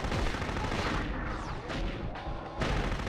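Loud, heavy bursts of gunfire and booming cannon shots from a mech shooting video game, rapid and overlapping, with no talking.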